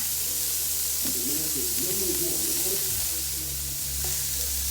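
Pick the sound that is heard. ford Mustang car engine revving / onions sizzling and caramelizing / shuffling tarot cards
onions sizzling and caramelizing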